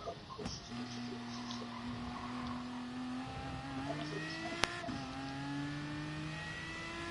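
Aston Martin race car engine in Gran Turismo Sport, a steady droning engine tone that rises gradually in pitch as the car accelerates, held at moderate level throughout with a brief sharp click near the end.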